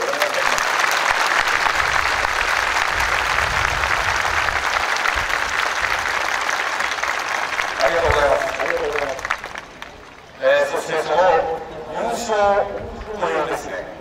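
Audience applause at a baseball team's season-final ceremony for players and staff, sustained and dense for about eight seconds before fading, followed by someone speaking over a public-address system.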